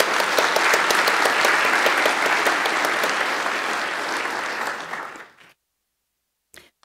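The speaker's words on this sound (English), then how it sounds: "Could you give them a round of applause" A conference plenary crowd applauds steadily and loudly, the clapping dense and sustained, then fades out and stops, leaving near silence with a couple of faint knocks.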